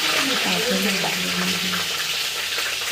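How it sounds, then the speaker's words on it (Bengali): Chopped green chillies fry in hot oil in a pan, giving a steady broadband sizzle that runs throughout at moderate loudness, with a few words of talk over it. "লঙ্কা কুচিগুলি একটু ভাজা হবে"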